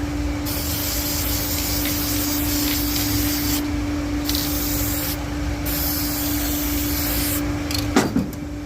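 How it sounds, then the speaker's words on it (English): A continuous hissing spray from an aerosol can of broken bolt remover runs for several seconds with brief pauses, close and loud, ending with a clunk, applied on a VW cylinder head. "Let me spray some broken bolt remover on there."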